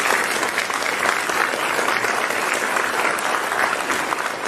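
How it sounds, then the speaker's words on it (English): Dense, steady applause from a concert audience honoring an education foundation during a spring orchestra concert, filling the room evenly at moderate loudness for several seconds. "Can we give the Education Foundation a round of applause?"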